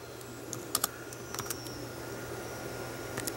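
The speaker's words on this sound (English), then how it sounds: "You can try type in, let's see, drink specials" Keys tapped on a computer keyboard in short, uneven bursts of clicks, close and clear against a faint steady hum, with no one speaking.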